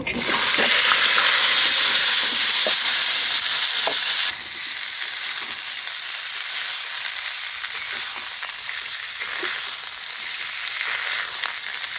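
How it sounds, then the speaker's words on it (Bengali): Pieces frying in hot oil give a loud, continuous sizzle and crackle up close, easing slightly partway through, with occasional stirring clinks. "এই তেলের মধ্যে এখন আমি ফুলকপিগুলো ভাজে নিব"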